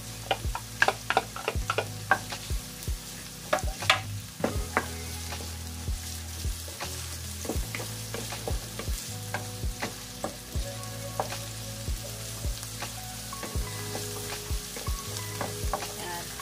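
Garlic sizzles in a pan for an adobo of chicken liver and gizzard, a steady frying crackle broken by repeated scraping and clinking stir strokes, fairly quiet and close.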